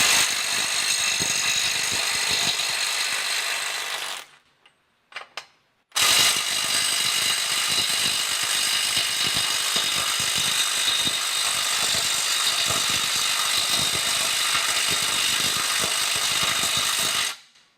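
Snap-on Stubby CT9038 18V cordless impact wrench hammering at a stubborn bolt, loud close rattling bursts that run for about four seconds, pause briefly with a few short blips, then resume for a long sustained stretch, with no talking.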